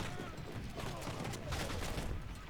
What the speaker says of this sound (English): Archers firing again.